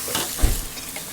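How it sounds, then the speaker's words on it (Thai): Noodles for pad thai being stir-fried in a pan, a short burst of loud sizzling with a scraping toss of the spatula partway through. "อันนี้เราก็ใส่เส้นลงไปนะคะ แล้วก็ผัดค่ะ"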